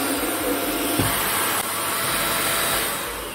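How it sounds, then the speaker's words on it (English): An AGARO Regal 800-watt handheld vacuum cleaner runs steadily at close range, a loud, high-pitched whirring hiss that holds constant throughout. "Just turn it on and see how it"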